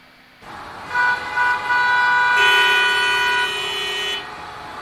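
A car horn blares loud and close in long sustained honks, a shorter toot first, then a steady held blast.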